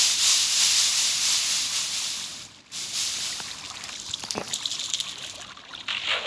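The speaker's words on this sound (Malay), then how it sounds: "Air. Cepat. Meleleh." Water trickles and splashes steadily into a small homemade pool. The sound is a close, bright hiss that dips briefly once and then runs on unbroken, with no talking.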